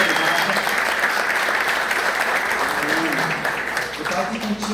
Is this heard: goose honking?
no